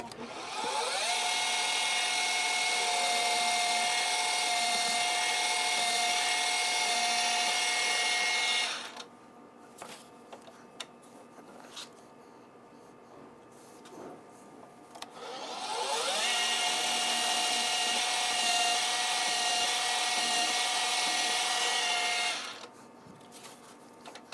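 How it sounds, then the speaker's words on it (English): Two long bursts of a high, steady whine from a drill boring holes through MDF board, each lasting several seconds, separated by a quiet pause with small knocks. "it tends to drill a little straighter, especially through this MDF"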